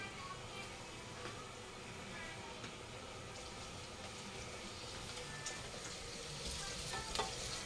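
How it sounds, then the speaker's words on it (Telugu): Onion with ginger and garlic paste and a little turmeric frying in oil while being stirred, a steady close sizzle with scraping stir strokes throughout and a few brief clinks. "మంచిగా ఆయిల్లో ఫ్రై అయ్యేలాగా మనం తిప్పుకుంటూ ఫ్రై చేసుకోవాలి."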